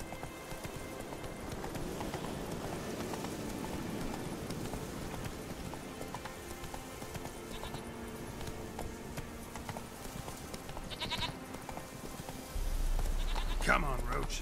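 Hooves of a horse trotting in The Witcher 3 video game, a steady faint clip-clop rhythm beneath layered game ambience and music, with a louder low rumble near the end.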